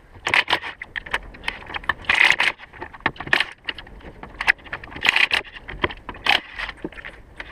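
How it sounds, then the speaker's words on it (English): A car's front wheel comes off on a vehicle raised on blocks for a brake replacement, giving close metallic clanks, jangles and short scrapes in an irregular rhythm. "So we're going to start by removing the tire."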